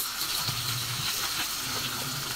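Tilapia seasoned with Cajun lemon frying in hot oil makes a steady, dense hiss and sizzle that runs without a break.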